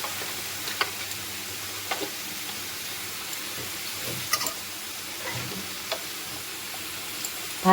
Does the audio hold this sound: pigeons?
no